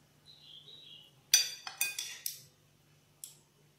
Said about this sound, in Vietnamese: chúng ta ướp và trộn trước thịt và tôm như thế này